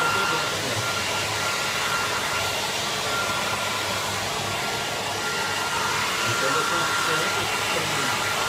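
A hair dryer blows steadily and loudly while drying hair after dye removal, a continuous roaring whoosh with no pauses throughout.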